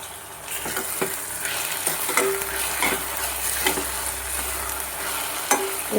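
Onions frying in a pan for dhaba-style paneer bhurji, a steady close sizzle broken by repeated scraping stirs of a spoon against the pan, with no talking.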